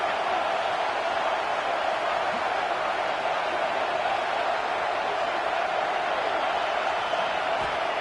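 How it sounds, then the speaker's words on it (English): Stadium crowd at a football game, a steady dense roar of cheering and noise that holds without pause at fairly loud level throughout. "It's early, but this crowd is fired up. Listen to this noise here."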